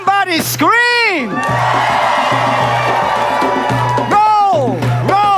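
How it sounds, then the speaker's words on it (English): A live audience screams, whoops and cheers loudly and continuously, with a booming musical voice sweeping in at the start and end. "Somebody scream about it."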